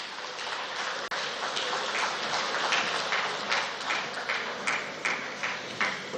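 An audience at an NDDC Renewed Hope Initiative partnership launch in Nigeria applauds the Honorable Minister with dense, steady clapping that pulses slightly and continues throughout.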